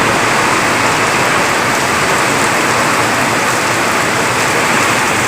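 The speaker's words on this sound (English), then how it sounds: "It is raining now more than 1 hour." Heavy rain pours down steadily around a workshop in Coimbatore in May, a loud, dense, unbroken hiss with no other sounds standing out.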